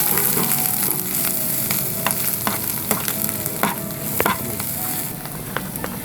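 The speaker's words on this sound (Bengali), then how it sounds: "আমি এখানে এক চা চামচের মতো জিরা গুঁড়ো দিয়ে দিচ্ছি দেওয়ার পরে জাস্ট একটু ভেজে নিতে হবে" Cumin and turmeric powder fry in hot oil in a pan for a masala beef brain bhuna, a close, dense sizzle broken by the scrape and clack of a spoon stirring at an irregular pace, with no voices.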